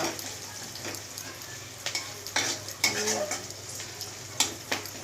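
Onions stirred and fried in a pan, soft sizzling under repeated scraping and clinking of a utensil against the pan in an irregular rhythm.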